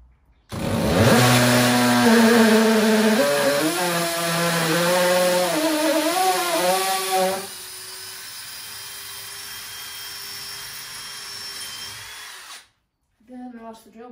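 A power drill whirs loudly close by, its pitch climbing and wavering as it bites in, then settles into a quieter steady spin for several seconds before stopping, with a voice briefly at the end.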